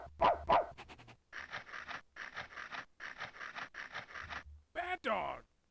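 The Bad Dog from the After Dark 3.0 screensaver barks in quick bursts, followed by a run of rhythmic panting or scratching pulses, then two more sharp yelps near the end, loud and close.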